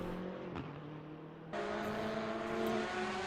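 Porsche race car in a racing video game at Kyalami, a steady engine drone with tonal harmonics that jumps louder partway through as another car closes in, with no talk.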